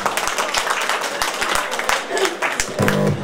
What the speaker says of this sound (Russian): Так, еще раз, кто готов, поаплодируйте.